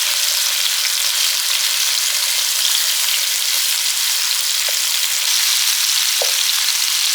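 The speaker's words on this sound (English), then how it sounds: "Now I want to cook the chicken" Chicken pieces browning in a pan on medium-high heat, giving a loud, steady, close sizzle and hiss throughout, with a couple of faint clicks near the end.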